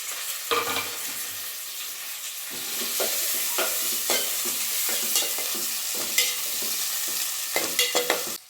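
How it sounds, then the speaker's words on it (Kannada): Sliced onions and curry leaves frying in a pan, a bright continuous sizzle with frequent scraping and stirring strokes, louder after the ingredients go in, and no voices. "ಈಗ ಈರುಳ್ಳಿನ ಹಾಕ್ತಿದ್ದೀನಿ ಹಾಗೆ ಕರ್ಬೇ ಸೊಪ್ಪು ಎರಡನ್ನೂ ಹಾಕೋಣ"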